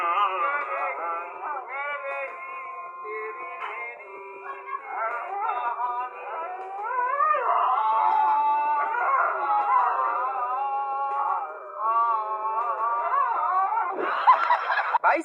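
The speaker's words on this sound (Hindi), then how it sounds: "हमारे वफादार कुत्ते अब घर की रखवाली करने की जगह नाचने और गाने भी लगे हैं।" Several dogs howl together in long, wavering, song-like tones, loud and close and almost unbroken for the whole stretch, ending in a brief rougher burst.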